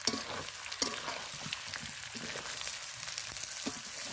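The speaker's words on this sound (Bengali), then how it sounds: "আমি কিন্তু সবসময় ঢাকা দিয়ে দিয়েই কষাচ্ছি মাংসটা" Meat slowly fried and stirred in a covered pan for a Bengali kosha curry, with a constant hiss of sizzling and occasional scraping taps of the spoon, no talking.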